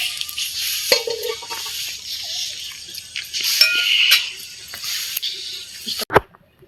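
Spices for a khichuri of home-grown mung dal are stirred and fried in a pot, with a sizzling hiss under repeated scraping strokes of a spoon. A sharp metal clank sounds near the end.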